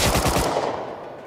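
Rapid automatic gunfire in the console version of Rust, a loud close burst of quick repeated shots that stops after half a second and leaves a fading echo.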